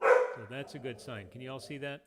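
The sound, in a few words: dog barking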